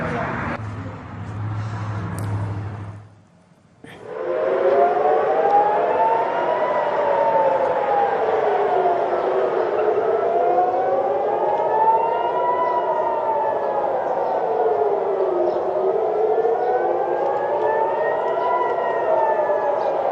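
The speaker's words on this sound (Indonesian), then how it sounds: "Suara peringatan sirine dan ledakan kembali terdengar di Tel Aviv, Israel pada Selasa dini hari" Civil defense warning sirens wail in Tel Aviv, Israel, a steady rising-and-falling tone that holds loud and continuous after a brief muffled start and a short drop.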